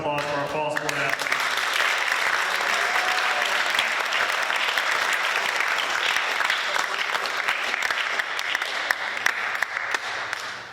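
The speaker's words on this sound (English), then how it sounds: "Let's have one last round of applause for our fall sport athletes." A sustained, dense round of audience clapping for fall sports athletes at an awards ceremony, loud and steady for about ten seconds, with a voice briefly audible at the start.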